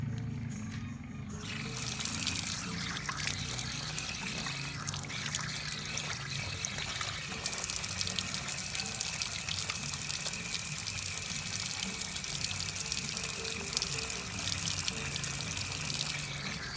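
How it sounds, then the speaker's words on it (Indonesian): Clean running tap water splashes and trickles steadily while hands are washed, a continuous close, moderately loud flow lasting the whole stretch with no voices. "lebih baik mencuci tangan dengan air mengalir yang bersih dan menggunakan sabun"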